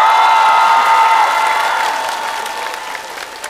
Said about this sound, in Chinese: 掌声欢迎最后一位